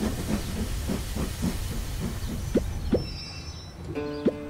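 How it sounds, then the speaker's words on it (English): A cartoon toy train pulls into its first stop with a long steam hiss and soft rhythmic clicking, then a few sharp clacks and a brief whistle-like tone near the end. "Mr. Train is arriving at stop number one."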